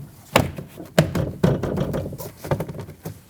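A 2003-2008 Subaru Forester front door trim panel is pushed onto its edge fasteners, giving a handful of sharp plastic knocks and snaps at uneven intervals, close up and with no talk.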